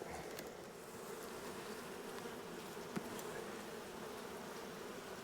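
Honey bees in an opened hive box being downsized hum in a steady, dense drone at close range, with one brief tap partway through.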